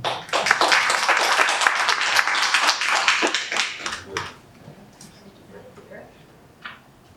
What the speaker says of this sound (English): we have to applaud him